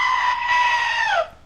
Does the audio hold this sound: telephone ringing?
no